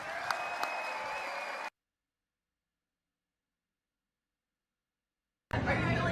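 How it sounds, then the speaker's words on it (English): Audience applause at a live comedy debate show comes as a loud, dense burst of clapping that stops abruptly, followed by a stretch of near silence before more crowd noise returns. "Let's give them a big round of applause."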